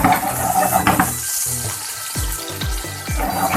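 Beef seekh kebabs fry in a pan with a steady, busy sizzle, and a few soft clinks and scrapes of a utensil against the pan sit on top of it.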